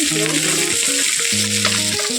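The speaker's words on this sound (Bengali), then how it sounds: "এই যে মাছ ভাজা হচ্ছে, মাছ রান্না করব টমেটো দিয়ে আর ভাজা জিরে বাটা দিয়ে।" Fish sizzles loudly in a hot pan for a tomato and cumin curry, a constant close frying crackle with steady tonal hums running underneath.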